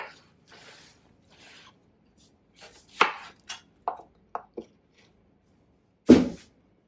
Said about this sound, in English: We're going to cut the ends off.